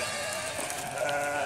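Sheep or goats bleating at a farm that also keeps camels, one sustained, wavering bleat close by, loud and steady with no talking over it.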